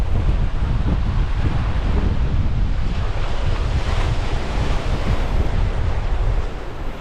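Strong wind buffets the microphone over continuous crashing surf on the Norfolk coast, a loud, unbroken roar with no voices.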